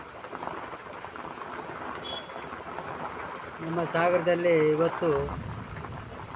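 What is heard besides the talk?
heavy thunder and rain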